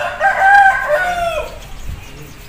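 An Aseel rooster of large height crows once, a loud, drawn-out call rising and falling over about a second and a half, then tailing off into quieter background sounds; no one speaks.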